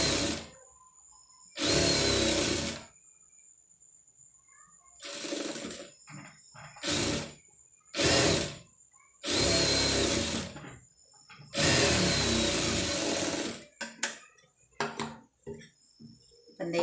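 Sewing machine stitching a neck design on fabric, running in repeated bursts of one to two seconds with short quick stops between, close and loud with silent pauses.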